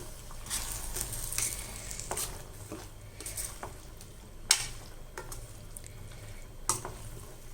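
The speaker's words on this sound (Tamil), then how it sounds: "இது போட்டு நல்லா அப்படி கிளறி விட்டுடலாம்" Soft frying sizzle under repeated scraping as a spoon stirs black-eyed peas through a frying pan, with a couple of sharper metallic taps against the rim.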